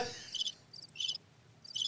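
Crickets chirping as a sound effect, short bright trilled bursts repeating in a loose rhythm, faint and clear against quiet.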